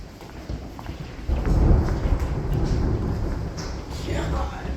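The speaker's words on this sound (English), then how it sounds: "the size of the hail is just amazing" Hail pounds down during a storm in Four Corners, Florida, a heavy, steady clatter and rush on surfaces nearby that swells louder partway through.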